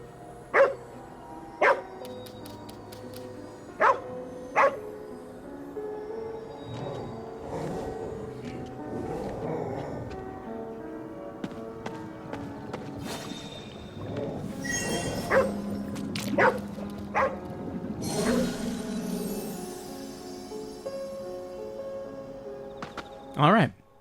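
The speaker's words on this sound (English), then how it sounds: "Let's get the dog to call out the Oni." A dog in the video game Ghostwire: Tokyo gives several short, sharp barks spread across a stretch of game ambience, with talking and other game sounds mixed in.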